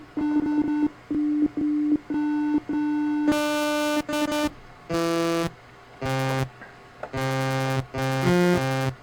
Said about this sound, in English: So first I'm going to record a bass track.